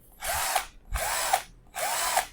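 A cordless battery-powered electric screwdriver tightening a screw, whirring in three close, even bursts about half a second apart with short pauses between, each ending in a slight rise in pitch.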